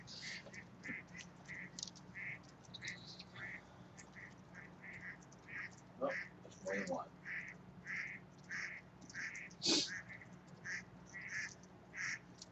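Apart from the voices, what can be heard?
ducks quacking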